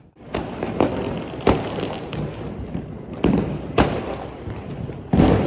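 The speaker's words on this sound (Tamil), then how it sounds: "சக்சஸ்ஃபுல்லி பட்டாசு வெடிச்சு தீபாவளி முடிஞ்சிருச்சு." Firecrackers bursting during a Diwali celebration, a series of loud sharp bangs and crackles spaced irregularly over a steady background of popping, with no voices.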